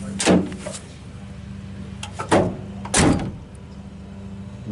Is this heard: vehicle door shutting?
yes